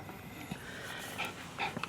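A small dog panting on a lap during a vehicle ride, quick soft breaths with a few faint whimpers and yips over a steady road rumble.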